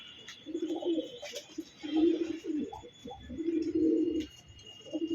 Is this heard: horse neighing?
no